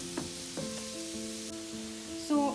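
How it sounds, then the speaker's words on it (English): Carrots frying in a pan for a beetroot and chickpea burger filling, with a steady soft sizzle, scattered stirring scrapes and a brief louder clatter near the end, with no talking. "It's time for the carrots to go in. We have to fry this and cook"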